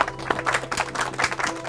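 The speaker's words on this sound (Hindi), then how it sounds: "ताली बजाइए।" A small audience claps at a village panchayat meeting in Phulera, a brief uneven burst of close, distinct handclaps lasting under two seconds.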